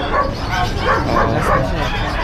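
Shih Tzu Pomeranian puppy at an outdoor pet sale giving several quick, high yips and whimpering barks in a loose rhythm, close by, over a background of crowd chatter and voices.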